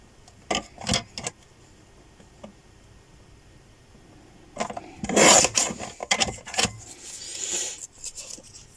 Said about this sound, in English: I'm just going to cut this little bit off here